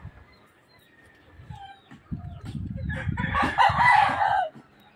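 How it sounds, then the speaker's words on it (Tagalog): A brood rooster crows once, loud and fairly close, a long drawn-out call in the second half over soft clucking and scratching from chickens nearby. "may natilaok na oh"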